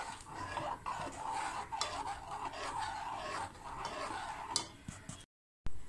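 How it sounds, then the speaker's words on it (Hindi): A spoon scrapes and taps steadily around a pan while walnut halwa with ghee and milk is stirred, producing faint, close clinks and rubbing scrapes with no talking. "अब हम इसको चमचे चलाते रहेंगे जब तक ये घी ना छोड़ दे"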